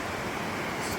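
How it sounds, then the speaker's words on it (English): Steady broadband rush of a waterfall on Pettit Creek in a forested Sawtooth Wilderness setting, a continuous close roar of falling water with no other sounds. "A nice waterfall here."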